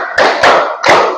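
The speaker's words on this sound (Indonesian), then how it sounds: "Tepuk 5." A group clapping in a classroom concentration game, three sharp, close claps spaced evenly in a quick rhythm, with no talk over them.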